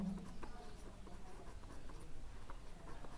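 A pen scratches steadily across paper while a maths solution is written out, a quiet continuous scribble with faint strokes and taps, close by with no talk.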